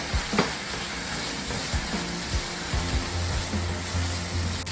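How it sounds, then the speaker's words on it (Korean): Tofu and beaten egg stir-frying in oil in a pan give a steady close sizzle, broken by repeated scrapes and clacks of a utensil turning the food. "그리고 풀어놓은 계란을 넣고 또 다시 볶아주겠습니다"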